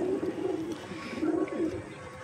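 Madrasi show pigeons of the Siya Madrasi type coo close by in soft, repeated throaty bursts, alone with no one talking.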